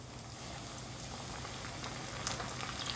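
Chicken pieces dropped into very hot oil over a high flame for crispy fried chicken, giving a faint, steady sizzling bubble with scattered small pops throughout, no voices present.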